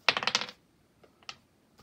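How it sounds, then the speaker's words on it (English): Dice rolling in a video game: a quick rattling burst of clicks at the start, then a few faint scattered taps, with no talk. "rolling 2 dice now"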